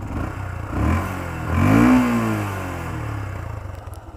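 A 2013 Yamaha Byson motorcycle engine idles with a smooth, quiet exhaust note, close by, swelling briefly in a couple of gentle revs before settling back to a steady low thrum, with no voices.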